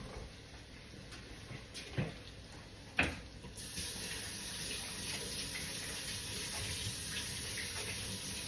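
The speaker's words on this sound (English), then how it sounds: "We're going to rinse the rice" Rice being rinsed under a running tap in a home kitchen, a steady quiet stream of water with a couple of brief clunks early on and a fuller flow afterward.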